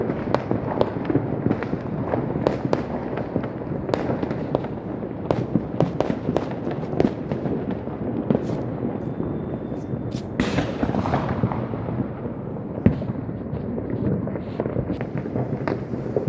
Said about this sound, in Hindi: कहीं स्काई शॉट्स चल रहे हैं, और कहीं बड़ी बड़ी जो है भ्रम भ्रम की आवाज़ें